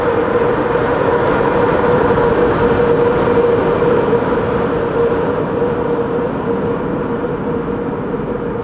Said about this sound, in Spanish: Ahí viene entrando el AVE, este es el rápido.